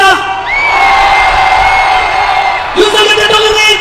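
A large outdoor political rally crowd roars in sustained cheering, with shouts and whoops layered into a loud, continuous wall of voices that surges again near the end.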